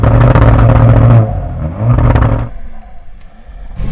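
A car engine revs hard at a race launch against a soft limiter. It gives a loud, close, pulsing roar that bounces off the limiter, drops briefly, surges again, then falls to a rough idle before climbing once more.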